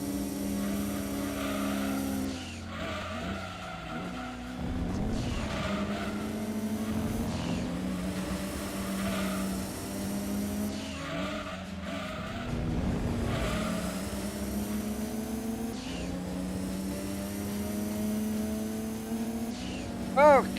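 Racing car engines in the video game Gran Turismo 2 roar and rev continuously, rising and falling through gear changes with occasional tire squeal, loud and near throughout.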